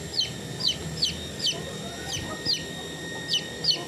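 Brahma chickens cluck in short, repeated bursts at a steady pace, fairly close, over a constant background hum.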